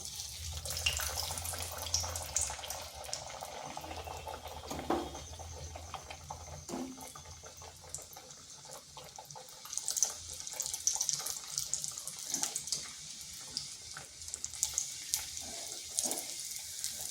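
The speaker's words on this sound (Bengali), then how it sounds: "এখানে কড়াইতে তেল গরম হয়ে গেছে এরপর দিয়ে দিচ্ছি" A continuous bubbling hiss of semolina and red lentil dough frying in hot oil in a wok, with occasional clinks and scrapes from utensils nearby; nobody speaks.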